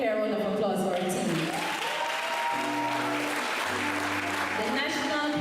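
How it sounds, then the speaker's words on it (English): An audience at a primary school graduation applauds, a dense steady wash of clapping that fills the hall, with some musical tones sounding underneath. "let me hear a round of applause for our team."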